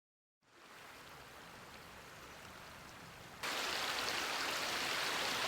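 Heavy night rain pours down as a steady hiss that starts abruptly after silence and grows noticeably louder partway through, continuing evenly. No voices are heard.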